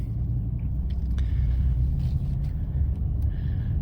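Second-generation Nissan Frontier pickup creeping along at very slow speed, a low steady engine and road rumble from inside the cab with faint clicks and no talk.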